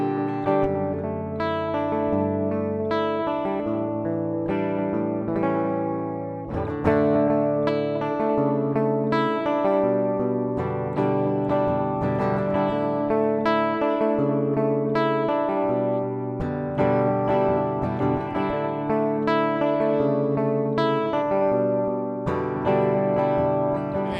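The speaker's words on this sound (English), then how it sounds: "I'm plugging the guitar straight into the console" Electric guitar plugged straight into a mixing console, run through EMT plate reverb and tape delay, playing sustained chords and picked notes with repeating echoes and a long shimmering tail.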